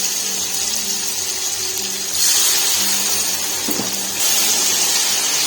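Water splashed into a pan of frying onions and tomatoes for street-style daal mash, giving a steady hiss and sizzle with a brief splashy burst partway through, close and continuous, no voices.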